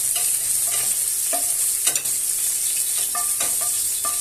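A steady sizzle of peppers sautéing in a hot pan, with occasional scrapes and taps of stirring.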